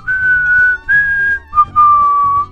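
A person whistles a few sustained, clear notes in short phrases with brief pauses between them, close and loud with no other sound.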